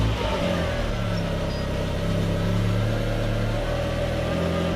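A car engine runs with a steady, loud, low rumble and hum from start to finish, just after a performance fuel pump install.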